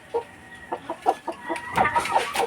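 A young stag chicken, about five months old with its tail trimmed, gives a string of short, close clucks at a steady, uneven rhythm, with a few louder bursts near the end and no talk over it.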